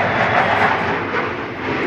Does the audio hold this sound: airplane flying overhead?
yes